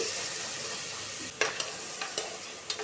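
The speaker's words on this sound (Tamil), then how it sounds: "தக்காளி சேர்த்துட்டு நல்லா கிளறி விட்டுடுங்க" Steady frying sizzle with a few sharp scraping clicks of a spoon stirring tomatoes in a frying pan for a brown chana gravy, close by.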